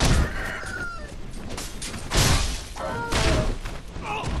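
A chicken in Sekiro: Shadows Die Twice clucks and squawks in several sharp calls over rustling game ambience and thuds, close and loud.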